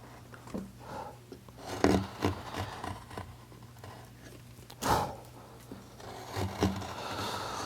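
A knife carves fur texture into a wooden fox figure, giving soft, irregular scraping cuts of varying length, close and quiet, with a few sharper strokes standing out.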